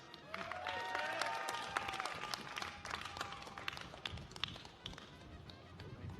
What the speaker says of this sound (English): More applauding and cheering out in the audience.